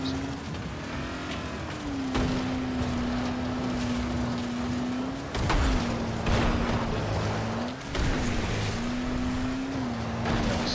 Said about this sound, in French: Malgré ma tondeuse à gazon qui me sert de moteur.